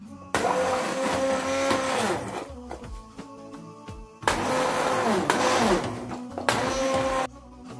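A kitchen blender purées leek soup in two loud bursts of whirring motor noise, each a couple of seconds long, separated by a stretch of clattering and handling sounds.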